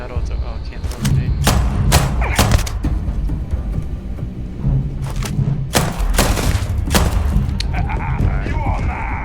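Gunfire and explosive thuds from a sci-fi shooter firefight in Starfield, with repeated loud shots in bursts throughout and heavy booming impacts. A player's voice talks over the action.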